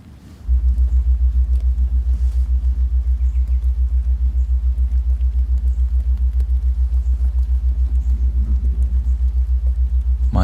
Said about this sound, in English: Astral travel is the top one, which sounds like this.